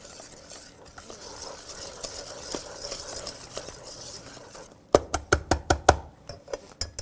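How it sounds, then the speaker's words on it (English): Flour stirred into hot liquid in a pan off the heat to form choux dough for cream puffs, first a soft scraping swirl, then a burst of sharp, rhythmic knocks and scrapes of the spoon against the pan, close by. "I'm going to add in all of the flour at once, and then immediately stir it all together"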